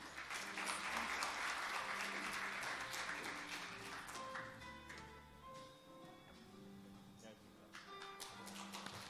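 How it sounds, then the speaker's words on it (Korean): At a climate action conference opening, the audience claps to welcome a bank president to the podium. The applause starts full and close, then thins out as music and some background talk carry on beneath it. "은행장님을 박수로 모시도록 하겠습니다"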